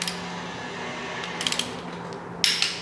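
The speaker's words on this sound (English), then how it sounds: "we've stepped our torque wrench up to 60 foot-pounds, and we can go ahead and tighten them the rest of the way" Torque wrench tightening bolts on a 5.3L LS LM7 V8 engine, set to 60 foot-pounds: two brief bursts of ratcheting clicks over a steady low workshop hum, fairly quiet and close.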